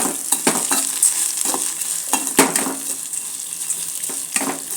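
Eggs roasting in oil in a pan give off a steady high sizzle, broken by a run of sharp spatula scrapes and taps at an uneven rhythm, close and fairly loud.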